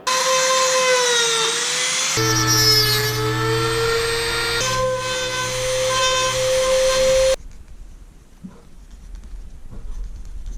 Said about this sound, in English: I'm gonna keep fine tuning it with the Dremel